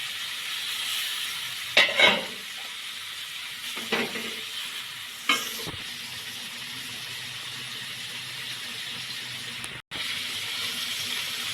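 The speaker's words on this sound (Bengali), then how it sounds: "ধীরে ধীরে কষানো হচ্ছে।" Masala and spices frying in oil in a pan for a small fish dish with tomatoes give a soft, continuous sizzle, broken by a few brief stirring scrapes early on.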